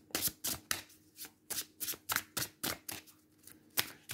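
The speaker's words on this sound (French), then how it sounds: "On rajoute une petite carte d'oracle." Cards from the Endless Oracle deck are handled and placed, with crisp, close flicks and slaps of card stock in a steady, repeated rhythm and no talk.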